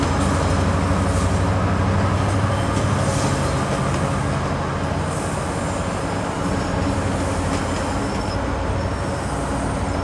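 GO Transit train bound for Oshawa, hauled by an MP54AC locomotive of 5,400 horsepower, rolls past in Toronto with a steady, loud rumble of wheels and engine, sustained throughout with faint wheel squeal.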